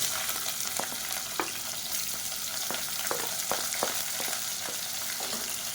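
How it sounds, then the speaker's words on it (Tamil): Cinnamon, cardamom, cloves, bay leaf and sliced onion fry in hot oil in a pot for one-pot rice, giving a steady close sizzle broken by scattered clicks and scrapes of stirring. "இது நல்லா பொரியட்டும். இப்போ பாருங்கள், நல்லா பொரிய ஆரம்பிச்சிருச்சு."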